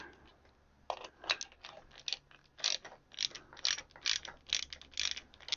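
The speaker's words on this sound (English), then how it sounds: "I'll put the 3 screws back in. And just snug those down." Screws are snugged down by hand on the windscreen wiper system of a 1955 Triumph TR2, producing a close run of rapid ratcheting clicks and small metallic creaks that grows busier toward the end.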